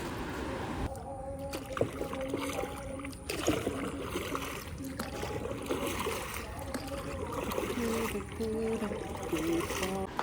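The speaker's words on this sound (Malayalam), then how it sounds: "അങ്ങനെ ഞങ്ങൾ രാവിലെ വള്ളമൊക്കെ തുഴയാൻ" Oars dipping and pulling a boat across calm water at a resort in the morning, with soft splashes and trickles recurring steadily under faint background voices.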